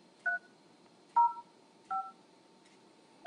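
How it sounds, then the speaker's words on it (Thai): Keypad tones sound from a Samsung Tab 7-inch tablet phone's dialer, with four short, clean beeps spaced unevenly against near silence. "เรากดโทรได้เลย"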